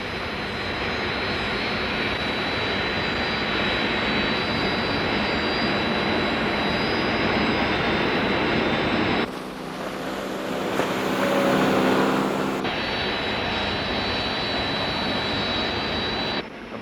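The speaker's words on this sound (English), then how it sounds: "Search aircraft launched" Jet search aircraft from the Thunderbirds episode Operation Crash Dive roar continuously over the sea, a loud sustained engine wash that shifts briefly mid-way before the steady roar resumes, with no talking.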